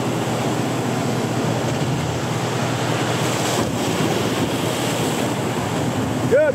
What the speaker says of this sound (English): Waves are coming and we are launching